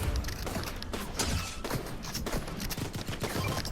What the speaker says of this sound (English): Keep shooting because there's another one